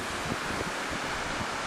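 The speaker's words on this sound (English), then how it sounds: "Here's the wind yet," Strong blizzard wind blowing at around 35 to 40 miles an hour with drifting snow, a steady, loud broadband roar buffeting the microphone throughout, with no voices.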